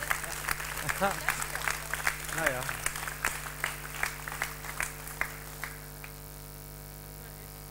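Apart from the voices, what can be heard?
theatre audience applauding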